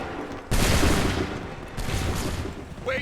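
Musket volleys boom in Assassin's Creed III, two loud close bursts of massed gunfire in quick succession, each rolling into a dense crackling tail, with no talk over them.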